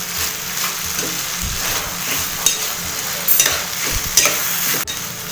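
Chopped ridge gourd frying in a pan with salt, a close continuous sizzle broken by scraping stirs and occasional clinks of the spoon against the pan.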